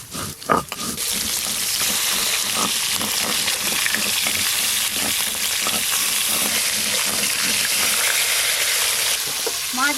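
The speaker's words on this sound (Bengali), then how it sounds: "মাছগুলো একটু ভালো করে লাল লাল করে ভেজে নেব" Rohu fish pieces sizzle steadily in hot oil, browning in a home kitchen pan, with a continuous bright crackle and occasional stirring clatter, close and loud throughout with no talking.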